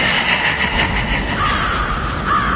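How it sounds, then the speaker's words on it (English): Crows cawing in a Roblox Halloween game, loud harsh repeated caws layered over each other in a dense continuous flock sound with no talk. "wherever you run, my crows and I will find you"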